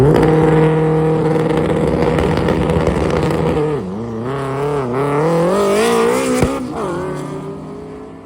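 A loud Fox body Ford Mustang drag car engine roars at full throttle, holding a steady snarl and then rising and wavering as it pulls away, with no talk.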